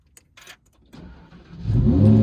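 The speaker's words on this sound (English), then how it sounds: "So how about we start this car up?" A 2018 Lamborghini Huracan Performante starts up: a few faint clicks, then a rising crank that catches into a loud, deep engine roar settling into a strong idle, heard up close.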